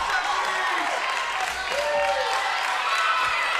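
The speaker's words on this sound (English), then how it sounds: "the crowd really getting into it now" A crowd cheering and clapping at a high school volleyball match in the fourth set, a steady wash of applause and whoops with some voices mixed in.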